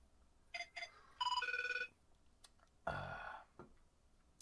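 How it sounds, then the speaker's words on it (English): An old-style phone ringtone trills in two short bursts, then a longer electronic ring, followed by a louder, broadband burst of noise. "Dude, that is a old fucking ringtone."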